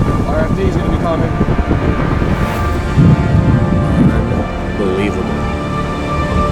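Strong wind roars near a violent tornado during a storm chase, a loud, continuous buffeting rush across the microphone with gusty surges and low rumbling throughout.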